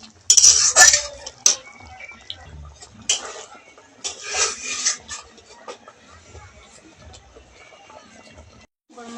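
A spoon clinks and scrapes against a pot while prawn malai curry gravy is stirred, with close metallic taps in short bursts and a faint simmer underneath, alongside some quiet talk.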